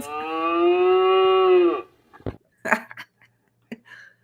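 A single long, steady cow moo sounds close and clear for almost two seconds as a produced sound effect, followed by a few brief clinks and soft knocks.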